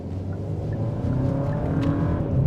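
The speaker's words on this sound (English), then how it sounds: "Oh, on the gas. It's a lot quicker." A 2025 Kia K5 GT pulls hard in first gear, its engine note a low steady drone that rises slightly as it builds, heard from inside the cabin with faint road noise beneath.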